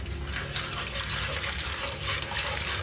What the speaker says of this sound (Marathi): आम्ही ह्याच्यामध्ये आता पाणी टाकतोय.